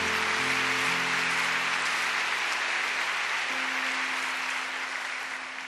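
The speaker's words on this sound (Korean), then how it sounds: "우리 하나님께 큰 영광과 감사의 박수를 올려드리겠습니다" A church congregation gives a loud, sustained round of applause during a Korean worship service, a dense continuous patter of clapping with a low sustained organ or keyboard tone beneath, easing slightly toward the end.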